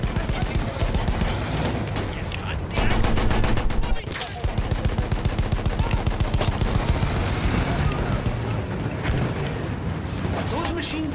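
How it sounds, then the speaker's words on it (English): Sustained machine gun fire in a Battlefield 1 World War I battle, dense and rapid, with overlapping bursts and distant booms, and people talking over it. "Those machine guns are holding."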